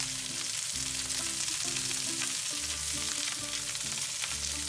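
Okra frying with salt and cumin for bhindi gosht, a constant close sizzle with occasional stirring, no voices.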